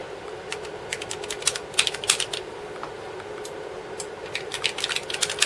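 Keys clatter on an early Amiga 500 computer keyboard under repair, a close, uneven run of quick clicks in bursts with short pauses, over a faint steady hum.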